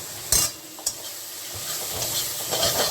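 Kashmiri chili powder hits hot oil in a pan for a bright sizzle, with two quick stirring clinks early on and a loud, steady frying hiss throughout.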